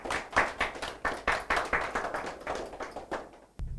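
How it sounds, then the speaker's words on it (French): A small audience at a contest claps for two teams in a quick rhythmic unison beat, near and moderately loud, the claps landing in regular pulses before stopping abruptly. "on applaudit pour ces deux équipes"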